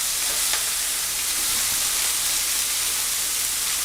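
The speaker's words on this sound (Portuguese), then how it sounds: "Aqui com a costelinha, dourando e fazendo o fundinho." Pork ribs browning in a pan for Spanish-style rice give off a loud, steady sizzle and frying hiss that holds evenly throughout, with no talking over it.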